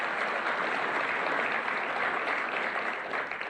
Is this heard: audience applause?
yes